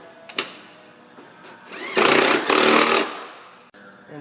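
Power tool driving a long 8mm bolt down on a Ford Five Hundred A/C compressor, a loud sustained whirring burst of about one second, then a brief pause and a shorter second run.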